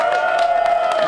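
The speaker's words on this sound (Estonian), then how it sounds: "suur aplaus talle!" A crowd at the Jõgevatreff 2008 motorcycle meet applauds Alo Teder, a brief burst of steady clapping under a sustained ringing tone.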